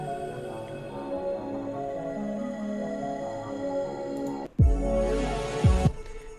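A time-stretched, pitch-transposed music sample prepared for a beat, a slow, smeared sustained tone with drifting pitch, followed by a sudden louder burst with a deep low thump near the end.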